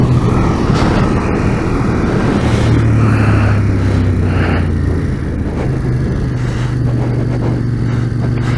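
A Ducati Monster 821 motorcycle rides in second gear, a loud steady engine drone with a shifting tone and wind rush, continuous and close throughout.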